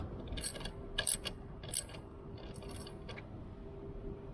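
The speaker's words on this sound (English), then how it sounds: "using a 15mm socket." A ratchet wrench fitted with a 15mm socket tightens a nut held by a spring washer, making a few faint, irregular clicking bursts over quiet background noise, with no speech.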